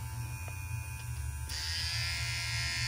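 A Kemei 1971 vintage T9 hair trimmer runs with a steady electric buzz and low hum, close and alone, growing brighter and louder partway through.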